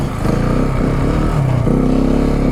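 A KTM 690 Enduro single-cylinder motorcycle revs loud and close while ploughing through six to eight inches of deep snow on a steep hill, engine pitch rising and holding under steady throttle in third gear.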